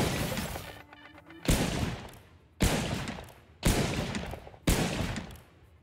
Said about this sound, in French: ça c'est le bruit d'un fusil à pompe dans Deceive Inc.